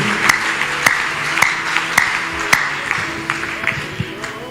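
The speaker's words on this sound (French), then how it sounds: "Est-ce qu'on peut acclamer le Seigneur?" A church congregation claps at a night prayer marathon, a steady rhythmic beat of many hands with crowd noise and voices of people talking over it.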